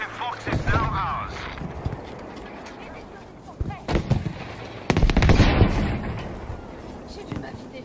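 Rocket blasts and bursts of gunfire in an online shooter match, several sharp booms and crackling volleys, the loudest near the middle, while players talk over the action.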